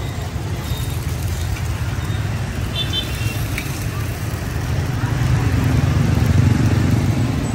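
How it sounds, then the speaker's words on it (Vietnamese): Wood fire roaring beneath a street-food bánh xèo pan at a Saigon roadside stall, a steady loud crackling rush throughout that swells slightly toward the end. "Đây lửa cháy là to này"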